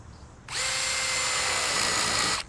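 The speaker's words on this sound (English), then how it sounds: "I'm going to drill a hole about 12 millimeters deep" A power drill bores into timber with a spade bit for a sandpit build, a single loud, steady whine lasting about two seconds that starts and stops abruptly.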